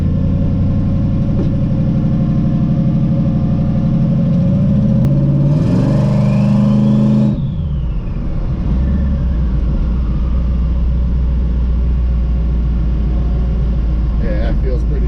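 A twin turbo Camaro on its first street drive, engine droning and rising under load, then a sharp loud surge of revving that drops away to a low steady rumble, with someone talking throughout.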